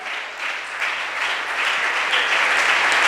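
Church congregation applauding in worship during a sermon at an IPUC service; a steady wash of clapping that swells slightly louder after the first second and holds without speech.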